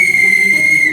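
A whistle blown in one steady, shrill, sustained tone lasting about a second, loud and close, with no talk.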